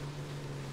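A motorboat engine in the video game Far Cry 3 drones with a steady low hum, loud and continuous, mixed with a watery, windy rush.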